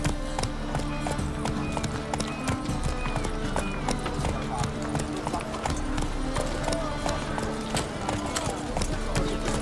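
Roach, the horse in The Witcher 3: Wild Hunt, gallops with steady rhythmic hoofbeats and an occasional whinny, set against continuous game music and ambience while voices talk over it.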